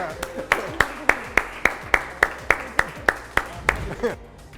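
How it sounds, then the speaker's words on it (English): Applause for an award winner at a school achievement ceremony: a small group claps in a steady, evenly spaced rhythm, about a dozen crisp, fairly close claps that stop abruptly near the end. "So can we give Daniel another round of applause?"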